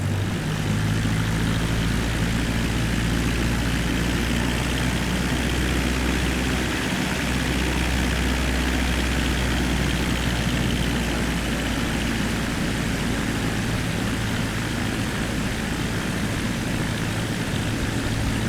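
A propeller airplane engine in Microsoft Flight Simulator drones loud and steady throughout, a dense continuous roar with a slight shift partway through and no voices.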